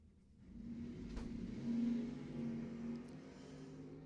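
Dragsters launch side by side at a drag strip, a distant rumbling engine roar that swells and holds with a steady low drone, fairly faint and heard from afar without commentary.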